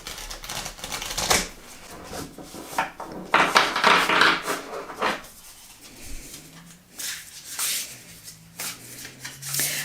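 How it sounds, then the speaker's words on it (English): Large tarot cards being shuffled by hand, with crisp riffling bursts and soft flapping, close up, in uneven rounds. "So I find them a little bit trickier to shuffle. So I have to kind of shuffle them like this."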